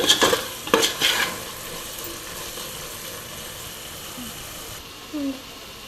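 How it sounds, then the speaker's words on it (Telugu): Chicken masala is stirred into paneer biryani in a pan, with a few loud scrapes at the start and then a low, steady sizzle and light stirring. "కొంచెం చికెన్ మసాలా వేసుకోవాలి మొత్తం కలుపుకోవాలి"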